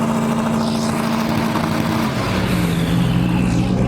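A car engine roars loudly up close, a strong steady drone with a slight pitch shift partway through, no voices.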